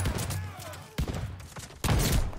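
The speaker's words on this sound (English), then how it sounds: "Why do I hear nothing but shotgun?" Shotgun blasts in Call of Duty, on the small Shipment map, boom in a busy firefight, with a couple of sharp reports standing out over constant game noise.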